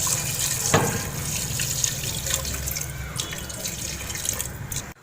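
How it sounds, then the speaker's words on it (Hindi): Water pours steadily from a tap into a pot of khara masala mutton (gosht). The splashing flow is continuous and close, with no voices. "इसमें अब पानी ऐड करते हैं।"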